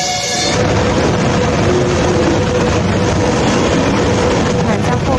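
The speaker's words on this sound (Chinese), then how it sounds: "看到一列火车经过。" A freight train loaded with containers rolls past near a station in Krasnoyarsk on the Trans-Siberian Railway, a loud continuous broadband rumble and clatter that stays steady throughout.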